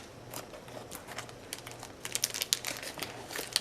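Plastic packaging from Japanese Pokemon cards crinkles close to the mic in soft, uneven crackles that grow busier and louder toward the end, with no voices.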